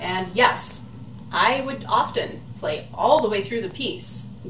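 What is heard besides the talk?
None of the usual background noises is heard.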